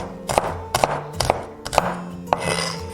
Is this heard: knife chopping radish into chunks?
yes